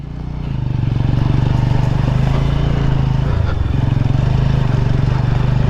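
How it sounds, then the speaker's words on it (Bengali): A motorcycle labouring uphill through deep forest in a very low gear, a loud steady engine drone held close throughout with a brief dip near the middle. "এবার আমিও আমার বাইকে হনুমান গিয়ার দিয়ে দিলাম, আর ডবলে কিন্তু আমাদের পাহাড়ে ওঠা শুরু হয়ে গেছে"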